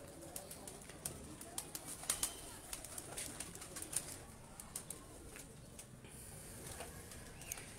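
Pigeons cooing in a loft, soft repeated coos mixed with sharp chirps and wing or foot clicks, moderately close over a steady background hiss.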